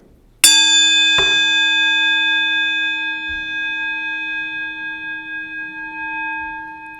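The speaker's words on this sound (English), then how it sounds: "As we follow the sound of the bell into silence" A single bell is struck once at a Sunday service. A bright clang is followed by a second light touch, then a long pure ring fades slowly into silence with a faint wavering beat.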